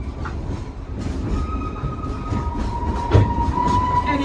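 A Baldwin-built narrow-gauge Mikado steam locomotive, engine 192 of the Dollywood Express, runs with a steady heavy rumble of rolling cars, faint wheel squeals and clicking rail joints, continuous and fairly close, with no voices.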